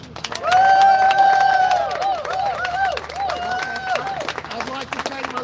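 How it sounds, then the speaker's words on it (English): An audience gives a round of applause for David McBride's legal team, with clapping and loud, harmonic cheering voices rising early and then settling into a sustained mix of clapping and crowd chatter. "Big round of applause for David and his legal team."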